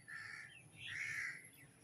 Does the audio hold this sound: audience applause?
no